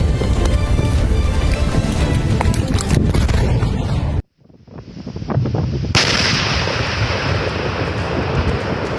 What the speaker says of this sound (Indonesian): Ledakan dahsyat terjadi di Desa Sagara, Kabupaten Garut, Jawa Barat saat kegiatan pemusnahan munisi tidak layak pakai oleh aparat militer